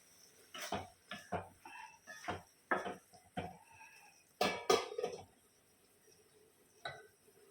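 Brinjal curry in a pot: a spoon scrapes and knocks against the metal in a series of short clatters, then a lid clinks down onto the pot, close and uneven, with no talking.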